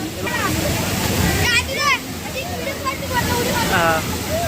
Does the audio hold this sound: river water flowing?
yes